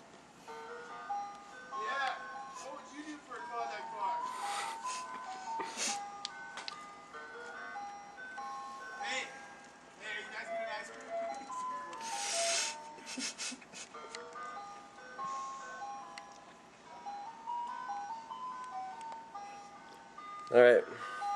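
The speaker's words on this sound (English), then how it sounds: "And that's our North Idaho ice cream truck experience." An ice cream truck in North Idaho plays its tinkling melody at a moderate distance, the tune running throughout under frequent nearby talking and occasional clatter.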